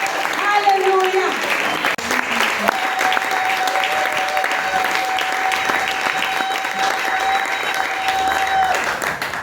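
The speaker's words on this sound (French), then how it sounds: "Tu peux acclamer encore et encore et encore." A church congregation applauds and cheers during a worship service, a dense, loud, sustained wash of clapping with a held tone running through it and voices mixed in throughout.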